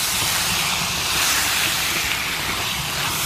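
Beef sizzles and hisses in a pan while being stirred for a Kerala beef fry, a steady, dense frying hiss close up with no talking.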